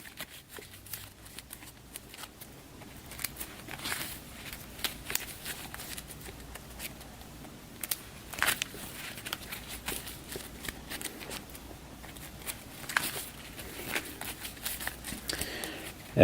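Freshly sleeved playing cards for the Western Front Ace game being shuffled, their plastic sleeves catching, giving soft, uneven riffling and slapping bursts that repeat quietly over a long stretch.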